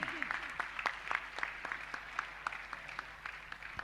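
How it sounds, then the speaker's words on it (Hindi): Applause from an audience at a Jain religious gathering, made of distinct separate claps in a loose, fairly sparse rhythm, heard from a distance at low volume with no speech. "तालियां तो बजनी चाहिए"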